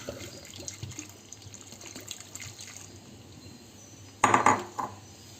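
Water splashes and pours into a pot of elephant foot yam near the end, a brief loud gush after quieter clinks and kitchen rustling.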